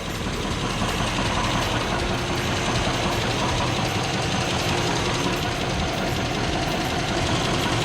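A car engine idles under the hood with a lifter tick, a steady close mechanical rumble with a fast, even ticking layered through it, constant in level from start to finish.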